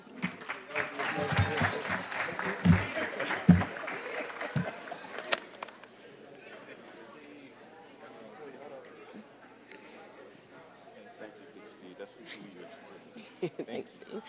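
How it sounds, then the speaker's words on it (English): Applause for construction students at an awards ceremony, a burst of clapping mixed with cheering and chatter for about five seconds before fading into a quieter room with murmuring voices. "Can we get one more round of applause to our construction students?"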